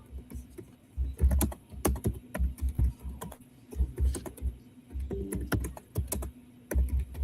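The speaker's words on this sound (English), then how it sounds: "I'm gonna try and see if I can type a story." Rapid, irregular bursts of keystrokes on a computer keyboard as a story is typed, close and crisp with brief pauses between flurries and no talk.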